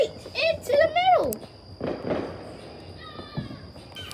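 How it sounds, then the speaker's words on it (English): Fourth of July fireworks go off at a distance, a few muffled bangs and crackles spread across a few seconds, while a person speaks excitedly and loudly close to the microphone. "Wow, I just saw some fireworks."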